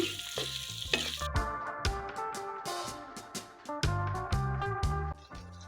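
A spoon stirs fried okra (ladies finger) into a homemade pickle mixture, making repeated close clinks and scrapes against the pan over a steady sizzle, with no talking.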